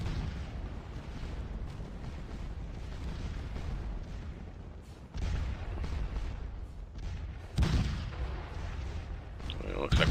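Continuous artillery barrage in a video game battle, dense rumbling booms and blasts layered over each other, loud and sustained, with a heavier burst of explosions near the end.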